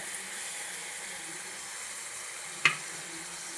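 Green chillies fry in a pan for a potato tamarind stew, a soft, even sizzling hiss with a single sharp knock partway through.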